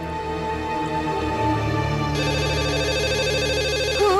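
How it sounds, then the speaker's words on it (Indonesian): A telephone rings with a steady electronic tone over a television showing a football match, the ring continuing unbroken and fairly loud for several seconds with no talk. "Kalau sudah nonton bola sampai nggak dengar suara telepon"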